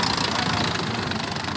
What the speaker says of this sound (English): Lovely tank, lovely sound